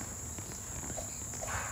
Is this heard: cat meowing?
no